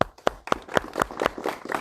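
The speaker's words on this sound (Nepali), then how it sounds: "यो कुरा चाहिँ ताली पड्काइदिनु" A few slow, evenly spaced hand claps from an audience at a Nepali talk on drugs, about eight sharp claps in under two seconds, close and fairly loud with no talking.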